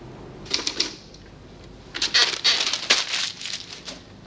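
Typewriter keys clatter in quick bursts as someone types a letter in an office, a short flurry of strikes, a pause, then a longer, denser run of close, crisp keystrokes.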